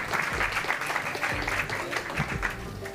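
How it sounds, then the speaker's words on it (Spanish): Steady applause at a gaming championship event, a crowd clapping in praise of a group of women. The claps sound moderately close and run unbroken for about three seconds. "Pues un fuerte aplauso para ellas porque la verdad que se lo merecen."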